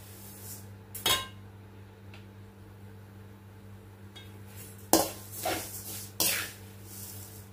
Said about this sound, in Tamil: சவுண்டு கேட்குதா? பொரிய ஆரம்பிச்சிருச்சு.